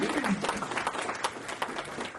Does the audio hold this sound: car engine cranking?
no